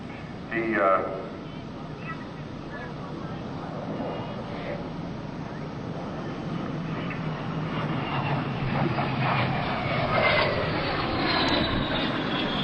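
An airplane engine with 5,200 pounds of thrust drones steadily overhead at an air show, a continuous rumbling roar that swells slightly as it flies, with a voice briefly heard near the start.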